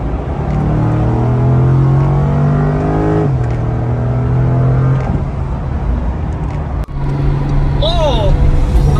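A convoy of supercars, including a Grand GT and a Turbo S, drives along with loud, steady engine drone and rising revs close by, and a voice talks over the noise.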